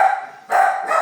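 Anxious dogs barking or yipping close by, two short bursts separated by a brief lull, with no talk over them.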